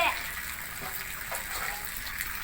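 Rainwater gushes and drains out in a continuous, rushing stream with splashes, steady and fairly close, while a voice speaks faintly over it.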